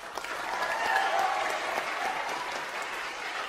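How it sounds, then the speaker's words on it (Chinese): Warm applause from a crowd honouring two performers, loud, dense and continuous for the whole stretch, with no voices standing out. "让我们再给两位一次热烈的掌声。"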